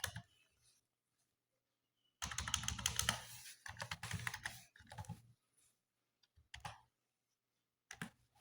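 Rapid clattering keystrokes on a computer keyboard entering a new Wi-Fi password during ZTE router setup, a dense burst of close clicks followed by scattered isolated taps and pauses.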